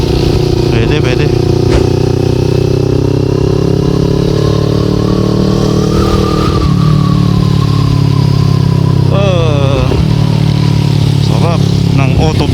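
A car engine roars loudly and continuously as the driver rev-matches on downshifts, its pitch dropping, climbing and blipping over road rumble, with a voice talking over it.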